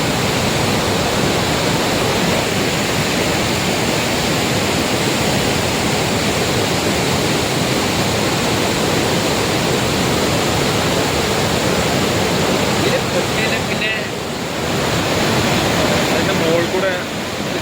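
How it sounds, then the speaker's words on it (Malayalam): A powerful waterfall pours beneath a small bridge in the hills near Munnar, filling the air with a dense, unbroken roar of rushing water, near and loud, dipping only briefly. "ചെറിയ പാലം കേട്ടോ എന്ത് സ്ട്രോങ്ങിലാ വെള്ളം വരുന്ന നോക്കാം"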